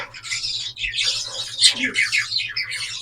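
Cockatiels at a breeder's aviary give rapid, close chirps and scratchy squawks, overlapping in a busy chattering stream for a few seconds.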